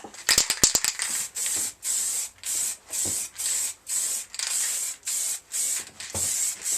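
Repeated bursts of spray-can hissing, each about half a second long with short pauses between, after a few quick rattling clicks at the start, spray painting a motorcycle screen in a garage.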